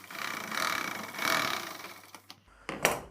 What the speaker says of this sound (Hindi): अब हमें कंटिन्यू सिलाई करनी है